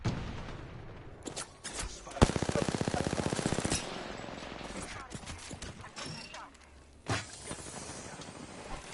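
Gunfire in a video game shooter: a rapid automatic burst of closely spaced shots, plus scattered single loud reports and impacts over a noisy battle background, with voice lines heard in between.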